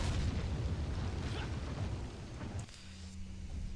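Gunfire and blasts from Resident Evil 4, a dense rumbling burst of explosive booms that runs for a couple of seconds and then cuts off to a quieter background with a low tone.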